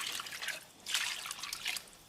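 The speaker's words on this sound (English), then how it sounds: "I'll add more water now." Water splashes and trickles into a cooking pot of meat for stock close by, coming in a few uneven pours with short pauses between them.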